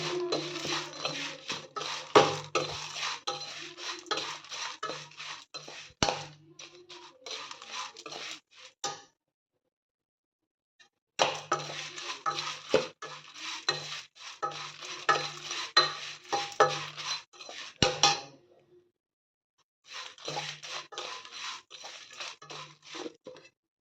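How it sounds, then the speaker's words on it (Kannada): Curry leaves roast in a pan as a spoon stirs and scrapes against the metal, sizzling in close, busy bursts broken by two brief pauses. "ಚೆನ್ನಾಗಿ ಹುರಿಯಿರಿ ಸ್ವಲ್ಪ ಚೆಂದಾಗಿ ಹುರಿಯಿರಿ"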